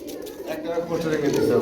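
Pigeons coo in a low, continuous murmur at a market stall selling pairs of birds, with people talking over them throughout.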